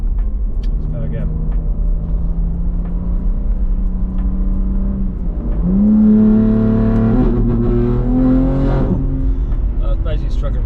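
A Stage 2 BMW M3 G81 with a custom exhaust accelerates hard up close, its loud engine note climbing through the revs, surging and holding a high pitch before easing off.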